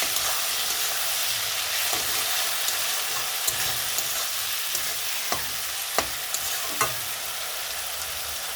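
A ground spice paste with turmeric fries in a pan for Assamese fish curry, giving a steady loud sizzle and hiss throughout, broken by several sharp clicks and scrapes of a spoon, with no voices.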